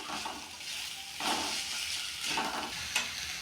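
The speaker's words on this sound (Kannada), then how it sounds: "ಇದನ್ನ ನಾವು ಚೆನ್ನಾಗಿ 3 ನಿಮಿಷ 4 ನಿಮಿಷ ಚೆನ್ನಾಗಿ ಫ್ರೈ ಮಾಡ್ಕೋಬೇಕು." Vegetable rice frying in a pan, a soft, steady sizzle with a few scraping stirs, fairly faint and without talk.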